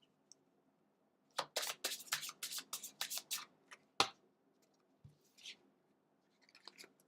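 A deck of tarot cards is shuffled by hand in a quick run of crisp riffling snaps. A few softer card taps and rustles follow, close and clear with no talking.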